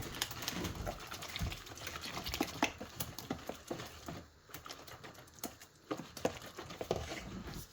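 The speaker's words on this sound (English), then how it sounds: "I'm going to incorporate all this. Whisk it well" A whisk beating spice cake batter in a bowl, a fast, steady, near patter of light clicks and scrapes running the whole time with no talk.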